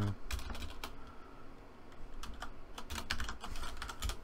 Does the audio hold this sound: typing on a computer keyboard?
yes